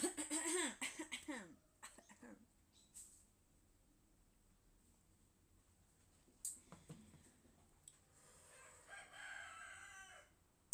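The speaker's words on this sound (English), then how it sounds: "Can you hear the rooster?" A rooster crows loudly near the start, a long rising and falling call, followed by a few brief coughs and throat-clearing sounds. Then a quiet stretch and a fainter crow later on.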